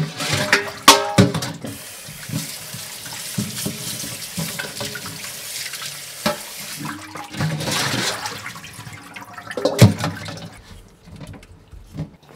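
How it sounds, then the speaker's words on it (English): Cold water runs steadily from a kitchen tap to soak pig's trotters for Korean jokbal, a continuous splashing rush with occasional louder clunks and splashes as the meat is handled. "I soak this in cold water many times."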